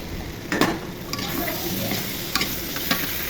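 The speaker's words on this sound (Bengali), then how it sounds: "এখন আলু দিয়ে দিব আলুগুলো আমি কেটে ধুয়ে পরিষ্কার করে নিয়েছি এখন আলু কষিয়ে নিব" Cut potatoes are stirred and fried in spiced oil in a pan, producing a steady close sizzle punctuated by several sharp scraping and clinking strokes of the spoon.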